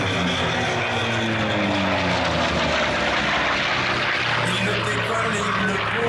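A Hawker Sea Fury propeller fighter of nearly 3000 horsepower drones loudly and steadily at an airshow, its deep engine roar constant throughout as it flies close by.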